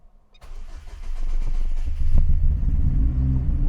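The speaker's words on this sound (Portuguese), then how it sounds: "Vamos ver aqui, primeira partida com esses bicos." A cold car engine fitted with new fuel injectors cranks briefly and catches, rising into a loud, steady idle that rumbles on close by.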